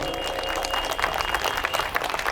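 An audience at a talk on Hindu dharma and secularism bursts into vigorous applause, fast overlapping claps with a steady hum in the background, loud and continuous across the moment.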